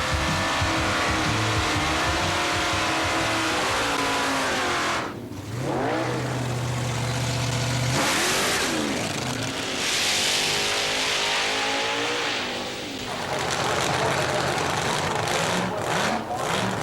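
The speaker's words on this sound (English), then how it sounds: "Blown door slammers, supercharged and ready for action." A supercharged door slammer drag car engine revs hard and loud, rising and falling in repeated surges with brief drops, then roaring again, with no voices over it.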